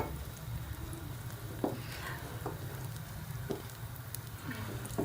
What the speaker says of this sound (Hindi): अब इसके अंदर हम ये जो अंडे वाला मिक्सचर है ये डाल देंगे